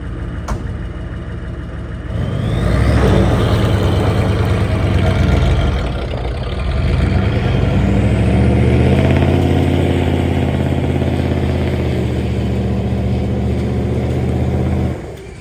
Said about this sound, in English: take the truck for a drive